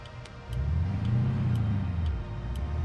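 A 1970s Peterbilt 359 truck with a CAT 3408 V8 diesel engine rumbles low and rises in a steady rev, loud and close, with faint ticking over the engine drone.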